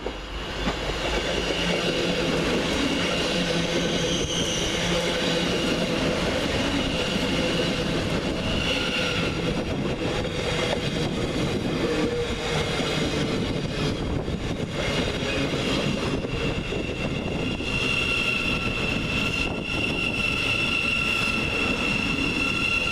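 Trains moving through Peterborough railway station, including a Thameslink service and freight, rumble loudly and continuously with wheel squeal and rail clatter across the whole stretch, no voices present.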